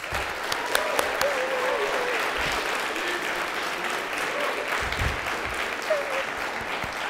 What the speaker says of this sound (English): his team of students, faculty, and staff a supportive round of applause